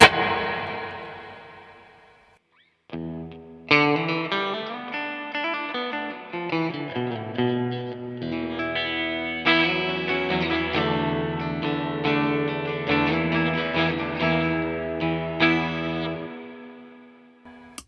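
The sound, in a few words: guitar pedal reverb effect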